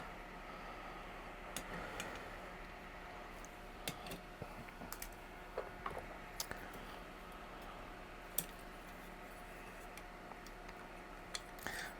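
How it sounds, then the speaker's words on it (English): Cutters snipping the soldered component legs off a TS-808 Tube Screamer pedal circuit board, a string of faint sharp clicks scattered irregularly over a quiet room hum. "let's snip the legs off."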